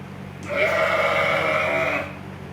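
A sheep at a farm animal sanctuary lets out one long wavering bleat, close and loud, lasting over a second against faint background hum.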